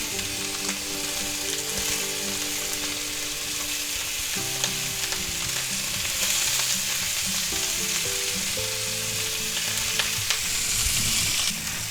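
Sous vide pork chops searing in a pan with melted butter, a loud, close, continuous sizzle with faint stirring and pan noise, with no one talking.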